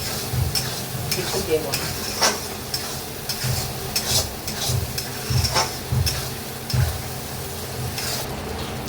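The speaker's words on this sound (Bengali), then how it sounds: "মশলাটা আমি ভালো করে কষিয়ে নেব, তেল ছাড়া অবধি" Spice masala for a chicken curry is stir-fried in hot oil, a close sizzling hiss broken by repeated rhythmic scrapes and knocks of the spoon against the pan, with a brief voice once.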